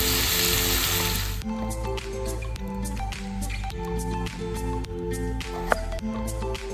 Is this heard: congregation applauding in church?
no